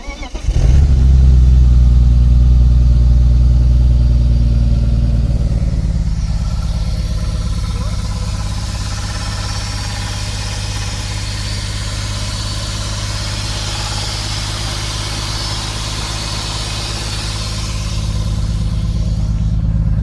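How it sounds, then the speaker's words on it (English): A BMW E36 project car's engine turns over and catches, then settles into a loud, steady, rumbling idle that runs on for the rest of the stretch, with some talk over it. "let's have a look at how it went when we actually started the engine."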